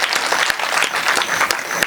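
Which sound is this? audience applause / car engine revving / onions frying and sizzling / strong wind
audience applause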